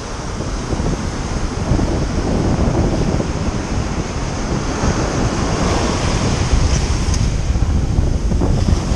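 Ocean surf rolls at Myrtle Beach with steady wind buffeting the microphone. The rush of waves is loud and continuous, and no one speaks.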